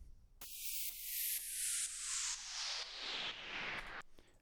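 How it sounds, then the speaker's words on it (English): A hiss of white noise sweeps steadily downward as a filter closes over about four seconds, pulsing rhythmically as if ducked by a beat. "We've also got this white noise down filter as well."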